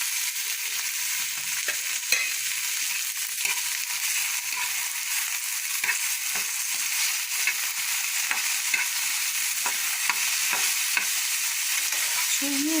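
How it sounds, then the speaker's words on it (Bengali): Drumstick (moringa) pieces frying gently in a pan on a low flame, a soft continuous sizzle broken by light scraping stirs at irregular intervals, close and steady with no talking. "সজনে ডাঁটা ভাজা বেশি দরকার নেই, হালকা নাড়াচাড়া আমি কম ফ্লেমে দিয়েছি"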